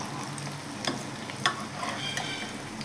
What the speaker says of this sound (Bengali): এরকম আস্তে আস্তে সবগুলো বড়াকে আমি উল্টে পাল্টে ভেজে নেব।